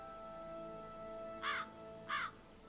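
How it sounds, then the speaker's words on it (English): Two short crow caws in the Nancy Drew: Ghost Dogs of Moon Lake video game, a second apart, heard over a steady tonal ambient backdrop with no talking. "I hear a crow."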